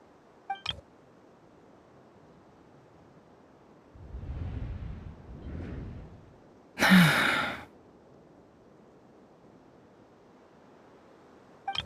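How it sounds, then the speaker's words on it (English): A character's gasp in the video game Genshin Impact comes as a soft, breathy intake amid mostly quiet game audio, followed by a brief bright chime-like sting. "I heard Yehuda gasp"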